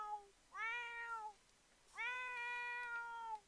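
A cat meowing in The Sims 4 game, two drawn-out, clear meows with a pause between them, close and alone over a quiet background.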